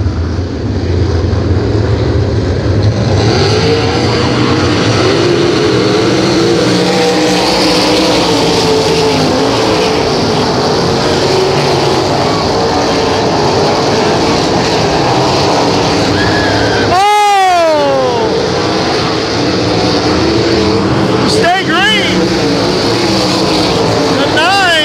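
Race cars roar around the Outlaw Speedway oval in a dense, continuous engine drone, with a loud pass-by sweeping in and out near the end while an announcer talks over the racing.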